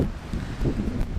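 Winter storm wind gusts outdoors on a farm in Portugal, buffeting the microphone with a low, rumbling roar that swells and eases over a brief stretch, with no voices.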